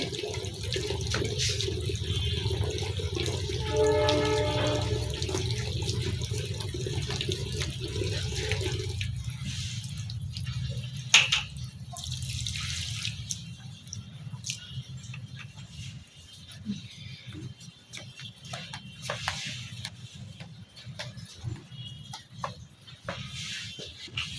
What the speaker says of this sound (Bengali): জলটা ভরে গেছে, জলটা আবার নিয়ে আসি